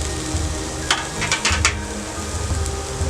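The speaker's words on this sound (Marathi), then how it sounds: "टोमॅटो घातल्यावर पण फुल गॅसवर आपल्याला हे परतून घ्यायचं आहे." Chopped tomato and onion sauté in hot oil over a full flame for a Malvani mushroom masala, giving a steady close hiss and crackle with a few brighter spitting bursts near the middle.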